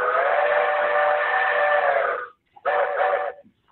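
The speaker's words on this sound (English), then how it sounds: "Let's check the Crosby 5-inch flat top 3 chime," Crosby 5-inch flat top three-chime steam whistle played through a model train sound decoder: one long, loud, steady chord-like blast, then a short second blast after a brief gap, with no talk.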